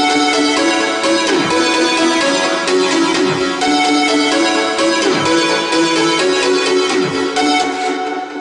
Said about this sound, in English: And then for the first time we have the lead synthesizer melody here.